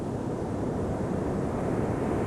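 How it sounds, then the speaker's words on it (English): Ocean waves at Gold Beach, Oregon: a broad, steady wash of surf from a field recording, even and unbroken, with no voices. "you can hear it now, which is the waves captured at this location"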